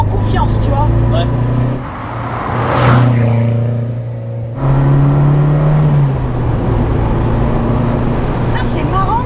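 Renault 5 GT Turbo engine revving near 5000 rpm from inside the car, a loud steady drone with pitch shifts and a brief gear-change dip, with people talking over it.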